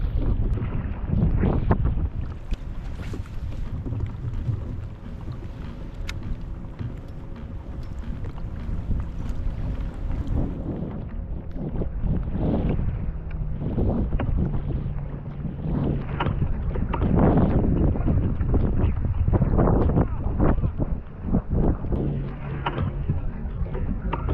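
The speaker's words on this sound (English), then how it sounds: "I don't even know if you guys can hear me because of the wind." Strong wind buffets the microphone on a lake during a kayak fishing tournament, a steady broadband roar with gusts that rise and fall across the whole span and no clear speech over it.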